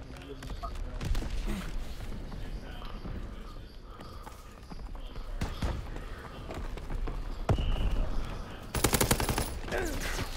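Lewis gun machine-gun fire in Call of Duty WWII, with bursts of automatic shots amid busy battlefield noise, the heaviest rapid volley near the end, while a player talks over it.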